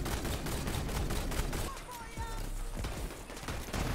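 Video game gunfire rattles in dense rapid bursts, loud and continuous at first, then thinning into scattered shots with some mechanical clatter.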